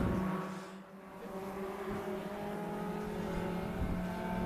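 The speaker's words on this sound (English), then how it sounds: "And Pete Smith waves that green, and our mini stocks are racing." Mini stock race cars circle Tucson Speedway in a steady, droning roar of engines that swells slightly as the pack goes by, heard from a distance without any voices.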